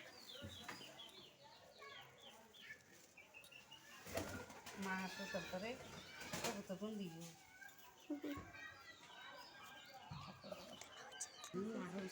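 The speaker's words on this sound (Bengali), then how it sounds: "এই যে আমাদের ছোট্ট কবুতর।" Pigeons cooing and fluttering close by, soft repeated coos mixed with clucking bird calls and a voice talking now and then.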